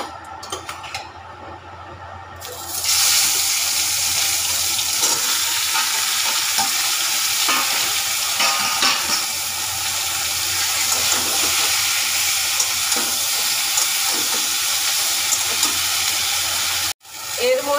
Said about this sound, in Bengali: হালকা ভাজা সবজিগুলো এবার দিয়ে দেবো